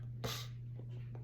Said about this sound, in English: I'm going to sneeze right on this camera.